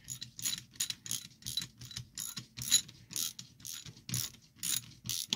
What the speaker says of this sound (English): This old ratchet and socket and everything, I've had this at least 35 years.